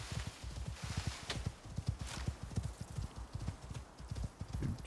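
Horse hooves walk over the ground in the ICARUS survival game, a steady close clip-clop rhythm running throughout with no voices.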